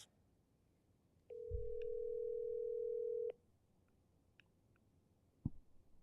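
A steady telephone call tone holds for about two seconds, with a few small clicks on the line before and after it and a thump near the end.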